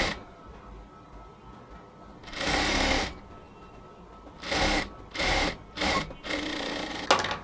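A sewing machine stitches a thin strip along the right side of a blouse in several short bursts separated by quiet pauses, near and moderately loud.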